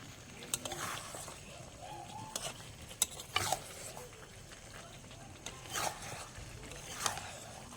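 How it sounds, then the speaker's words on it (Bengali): Chicken being stirred with garam masala in a pan, intermittent scraping and clinking strokes over a low sizzle, close by, with brief murmurs of voice in the background. "এবারে এখানে মাংসটা ভালো করে কষিয়ে নিয়ে একবার নেড়ে নেওয়া হচ্ছে গরম মশলাটা দিয়ে"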